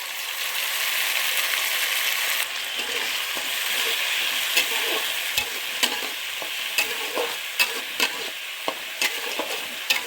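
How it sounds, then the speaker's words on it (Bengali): Ginger-garlic paste frying with browned onions in a pan for egg curry, a steady close sizzle broken by frequent spatula scrapes and taps throughout, with no talking. "পেঁয়াজটা ভাজা হয়ে গেছে, এবার দিয়ে দেবো আদা রসুন বাটাটা।"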